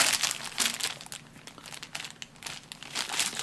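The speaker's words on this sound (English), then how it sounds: "So right here is a little plastic bag." Small plastic bag from a Seasonic X-850 power supply box being handled and opened, giving bursts of crisp crinkling and rustling that come and go in irregular clusters, close to the microphone and fairly quiet.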